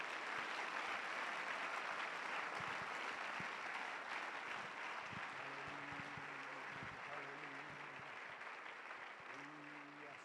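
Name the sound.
congregation applauding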